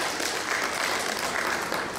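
A forum audience gives sustained applause for Minister Xin, a steady, fairly loud patter of many hands clapping at once with no breaks.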